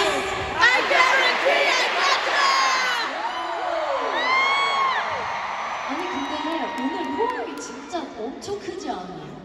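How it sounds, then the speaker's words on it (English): A large concert audience at The O2 in London cheers and screams, a dense wall of shouting and whooping that swells loud early and stays sustained, with high excited voices rising over the roar. "Gosh, you guys cheering for us tonight so hard!"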